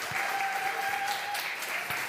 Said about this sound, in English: Kris Halpin, massive round of applause, please.